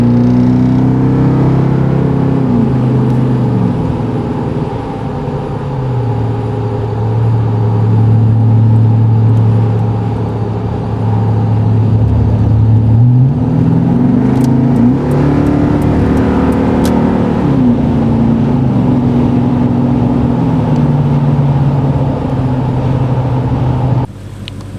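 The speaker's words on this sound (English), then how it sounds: "next I'll show you guys a freeway clip where I'm giving it more gas" A Toyota Tundra pickup truck with dual Flowmaster Outlaw exhaust drones steadily on the freeway, pitch rising and falling as it accelerates through gears, loud and close with constant road noise.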